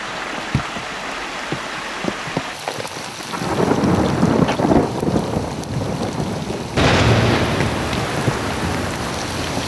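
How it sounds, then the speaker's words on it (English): Thunder and lightning storm on the flanks of Mount Olympus, Greece: heavy rain hissing steadily with deep thunder rumbling and swelling, then a sharp thunder crack late on, close and loud, no talking. "we're stuck on the flanks of Mount Olympus in the midst of a thunder and lightning storm"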